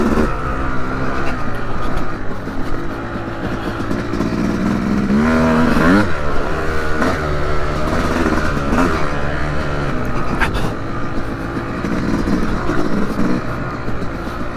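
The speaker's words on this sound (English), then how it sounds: "See how well it pulls second gear out of these corners." A 2025 Yamaha YZ250X two-stroke dirt bike with a high compression head, ridden on a trail and pulling hard out of corners in second gear, its loud buzzing engine rising and falling in pitch as it revs and shifts.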